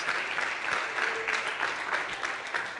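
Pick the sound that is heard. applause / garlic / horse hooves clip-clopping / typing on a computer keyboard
applause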